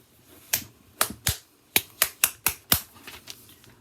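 Sharp hand claps in a steady counted rhythm during a fifth-grade music lesson, about eight crisp, close claps in an uneven pattern with short gaps and no talking over them.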